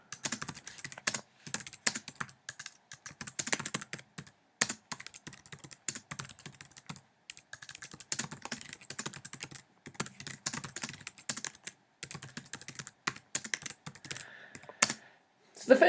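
Computer keyboard typing runs in irregular bursts of close, quiet key clicks with brief pauses between phrases, and no voice over it.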